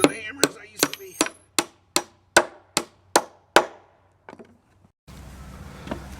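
About ten sharp hammer blows on wooden boards ring out in an even rhythm while building an outhouse, then a few lighter taps before it goes quiet and outdoor noise follows.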